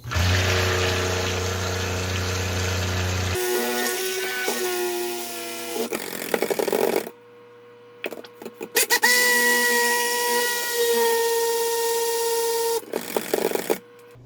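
A loud, steady motorized whir of an immersion blender mixing cold-process soap that cuts out and restarts several times, with brief pauses between bursts of blending.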